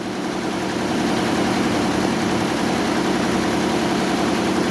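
A computerized embroidery machine runs steadily, giving a continuous low mechanical hum with a dense, even whir and no pauses, close by and fairly loud.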